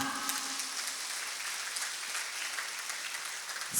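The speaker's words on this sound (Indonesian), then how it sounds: "Tepuk tangan untuk anak-anak kita semua." An audience at an opera performance applauds children, a steady dense wash of clapping that holds evenly throughout, with no one speaking.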